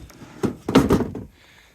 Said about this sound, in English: So we'll open up the top cover with the hose sticking through.